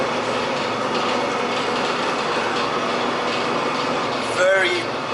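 Steady rumbling and rattling of a moving carriage on a basic train between Batumi and Kutaisi, Georgia, with a brief squeal of wheels near the end; no clear talk.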